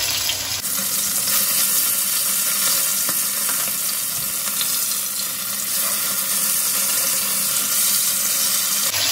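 Bata fish pieces fry in smoking-hot oil, a loud, continuous close-up sizzle that holds evenly throughout with no talking.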